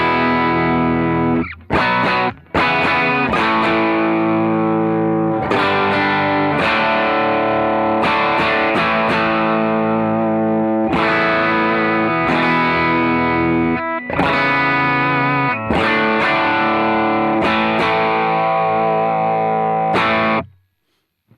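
Distorted electric guitar plays sustained, heavily overdriven chords in a few long phrases separated by brief pauses, loud and compressed, with no talking.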